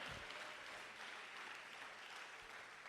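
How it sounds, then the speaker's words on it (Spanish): Church congregation applauding during a Spanish-language evangelical sermon, a steady dense wash of clapping that holds at an even level for about three seconds with no voices over it. "Dele fuerte ese aplauso al Señor"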